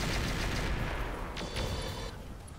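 Mech weapons firing in the video game Roguetech, a dense, continuous barrage of booming shots that rolls on loudly for a few seconds and slowly eases, with no talking.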